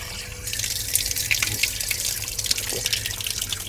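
Water pours from an ancient 5th-century drinking spring in a steady close stream, with scattered drips and splashes breaking through.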